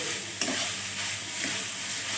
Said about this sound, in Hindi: अब इसी तरह से ये भुने जाएंगे।